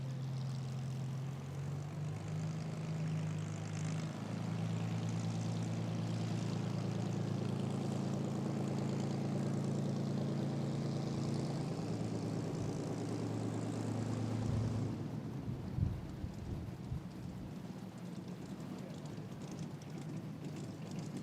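A Spitfire with its long Merlin engine taxiing in to park at an airshow, a loud, steady propeller drone with a low rumble that holds for about fifteen seconds, then shifts to rougher, uneven engine noise as it slows near the stand.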